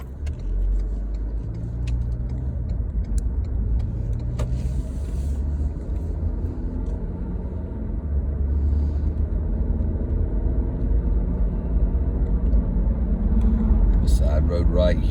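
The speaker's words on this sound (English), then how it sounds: "We got a car coming here." Car driving along a road during a driving lesson, a steady low engine and tyre rumble throughout with an instructor talking over it.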